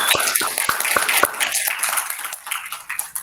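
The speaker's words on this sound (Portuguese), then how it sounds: "Então peço uma salva de palmas ao doutor Marcos." An audience claps for a speaker, doctor Marcos, at the close of a talk: scattered sharp claps at first, then a thinner, fading patter.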